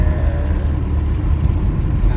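A tuned Alfa Romeo 164 on the move gives a loud, steady low engine rumble and road drone from inside the cabin, with no voices.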